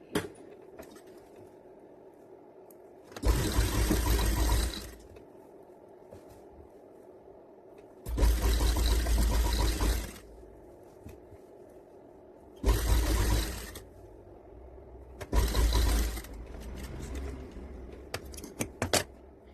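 Sewing machine stitching a farshi salwar, four bursts of rapid mechanical whirring a few seconds each, separated by quiet pauses with faint handling clicks.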